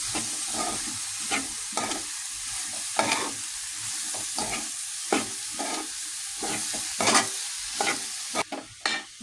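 Mushrooms for a curry sizzle in a pan while a spoon stirs them, with steady frying hiss broken by repeated scraping strokes and clanks nearby.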